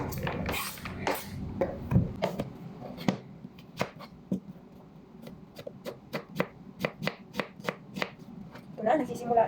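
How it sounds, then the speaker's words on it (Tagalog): A knife chops onions on a cutting board, a steady series of crisp, close knocks after some initial handling, with someone talking at the start and end. "Medyo marami-rami itong i-chop-chop natin."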